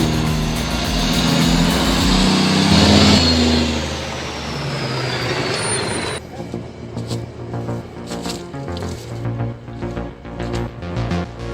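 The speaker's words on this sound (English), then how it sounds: "This Kenworth W900 rides through mud like a wild cowboy." A Kenworth W900 truck rated at 450 horsepower hauls about 15,400 pounds of timber through a muddy bend. Its heavy engine roars loudly, swells and then drops to a lower idling rumble with intermittent clanks and hisses.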